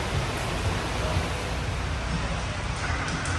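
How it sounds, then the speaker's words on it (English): Heavy rain pours down outside under a tent, a dense continuous roar of broadband noise with no breaks. "just pouring down rain."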